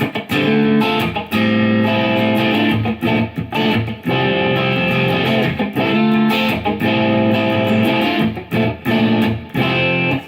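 Electric guitar, a Washburn Solar V160 with single-coil middle pickup position, played with a clean, bright tone, strummed chords and riffs in a steady rhythmic pattern, loud and close.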